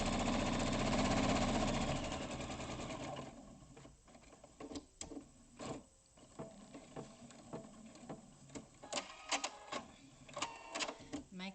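A sewing machine runs a straight seam down fabric for a gift bag, a loud steady mechanical whir for about two seconds that then drops into short stop-start bursts of stitching, with some talking in between.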